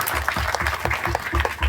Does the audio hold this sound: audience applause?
yes